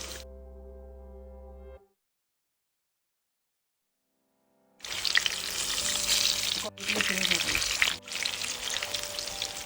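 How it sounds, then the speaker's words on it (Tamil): Chicken chapli kababs fry in oil over medium heat, with a dense, bubbling sizzle that starts after a tonal intro and a silent gap and runs close and loud with brief dips. "மிதமான சூட்டில் பொன்னிறமாக நம்ம வறுத்து எடுக்கலாம்"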